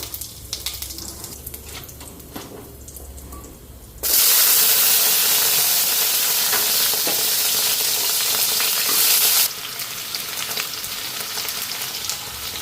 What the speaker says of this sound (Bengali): এদিকে তেল গরম হয়ে গেছে, একটু জিরা ফোড়ন দিলাম